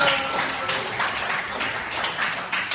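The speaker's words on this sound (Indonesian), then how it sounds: "Tepuk tangan untuk kita semua." Classroom applause from a group of students and their teacher, a steady patter of many hands clapping at once that keeps going for a few seconds, with faint voices mixed in.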